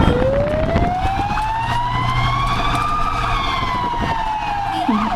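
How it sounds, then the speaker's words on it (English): A loud European ambulance siren wails steadily, its pitch rising and falling, with steady traffic noise underneath. "ah, run, there's like an ambulance."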